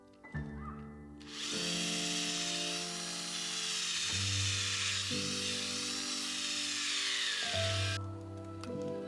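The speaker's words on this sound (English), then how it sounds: "We're gonna just drill a small one." A power drill bores a small tap hole into a birch tree trunk, a loud, close, high motor whine that holds steady for several seconds and shifts pitch as the bit bites into the wood.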